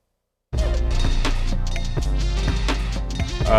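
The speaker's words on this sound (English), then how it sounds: "What you're hearing is Native Instruments drum kit" A dense Native Instruments drum kit pattern kicks in after a short silence, with punchy kicks and bright cymbal and snare hits driving steadily.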